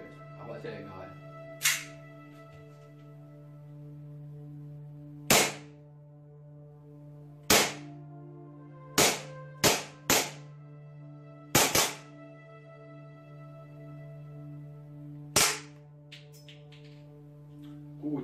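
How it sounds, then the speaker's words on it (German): A Hex Cut 1911 Gen.2 gas blowback airsoft pistol fires about ten sharp, snapping shots at irregular intervals, some in quick pairs, over a steady low background hum. "So, nochmal 12 Schuss."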